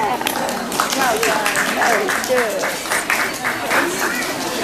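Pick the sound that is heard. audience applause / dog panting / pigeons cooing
audience applause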